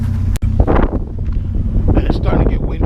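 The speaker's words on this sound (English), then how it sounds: "Starting to get windy again." Gusty outdoor wind buffets a microphone, a loud low rumble with a brief dropout, while scrap metal handling goes on and a voice talks faintly at times.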